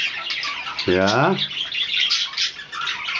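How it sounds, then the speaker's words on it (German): A yellow rooster gives a short, harsh squawking call close by, with a person speaking briefly over the chicken noise. "Und hier haben wir nochmal wieder einen ganz gelben Hahn."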